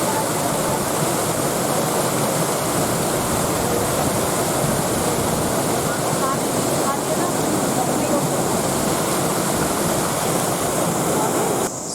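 Natural water pours along a mountain road near Nainital with a loud, constant roar like a stream or waterfall. The dense rushing noise holds unbroken for twelve seconds.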